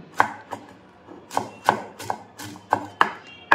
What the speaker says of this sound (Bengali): এইভাবে ধরে চাকু দিয়ে বা ছুরি দিয়ে এইভাবে কুচি কুচি করে কেটে দেবেন